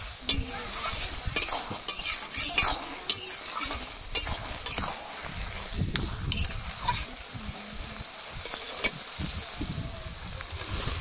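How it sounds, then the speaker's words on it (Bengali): Leafy garden greens stir-fried in hot oil for a few minutes, a steady sizzle broken by repeated scraping and clinking stir strokes of a utensil against the pan, close and fairly loud, with no talking. "শাক ভাজা হয়ে যাচ্ছে"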